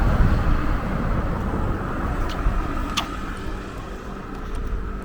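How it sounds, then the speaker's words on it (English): A car with a red top drives past on a road in Bermuda, heading into Hamilton, giving a steady, fairly close rumble of engine and tyre noise that fades slightly toward the end, with no voices. "There goes my daughter in the car with the red top."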